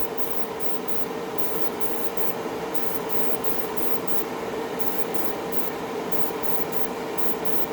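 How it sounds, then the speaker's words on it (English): Tamiya LP-51 Pure Orange spray paint misted on in light coats: a close, continuous hiss with a steady airy tone, pulsing faintly in regular short bursts, no talking. "Just putting light mist coats on."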